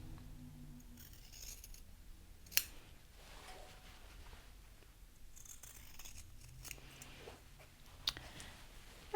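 Scissors trim the corners of sewn fabric at an ironing board, giving a few faint snips and clicks, with one sharp cut near the start and another near the end, against a quiet room.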